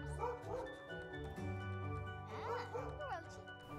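A dog in The Sims 4 gives several short, yipping barks and whimpers, and someone speaks French over them at the same time.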